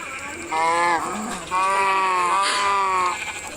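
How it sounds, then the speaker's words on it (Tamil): A small cow moos in three drawn-out, harmonic calls close by, each rising and falling, with brief pauses between them and no talking. "இது சின்ன மாடு"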